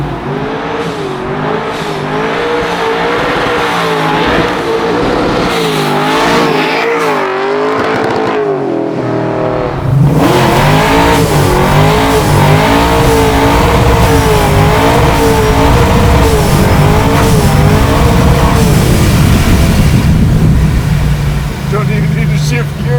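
A classic Chevy Chevelle built to 900 horsepower pulls hard in second gear, its loud engine note rising and surging in repeated sweeps with a sharp jump midway, while people talk over the roar.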